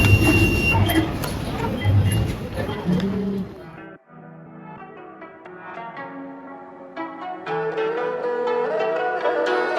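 A Bangalore metro train rumbles and screeches along the rails, with high squealing tones and clattering as it slows, then a steadier hum resumes.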